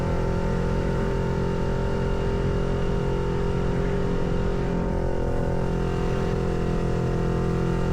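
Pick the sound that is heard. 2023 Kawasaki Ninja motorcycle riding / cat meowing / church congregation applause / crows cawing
2023 Kawasaki Ninja motorcycle riding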